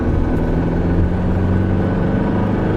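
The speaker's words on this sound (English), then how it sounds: "you can hear the clackety-clack of this motor" A 2024 Toyota Tacoma pickup's engine idles steadily and loudly with a low, rhythmic clattering rumble that holds constant throughout, close by and without speech.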